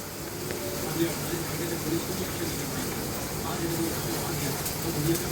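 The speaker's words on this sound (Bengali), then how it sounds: "ভাজা হচ্ছে" A ginger, onion and garlic paste sizzles steadily in a pan, a continuous hissing frying sound with faint bubbling throughout, no pauses.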